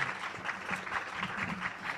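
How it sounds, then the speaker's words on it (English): Audience applause for conference panelists at an investment policy event, a dense, steady round of clapping from a crowd, fairly loud and continuous for the whole stretch. "I request a round of applause for all our panelists."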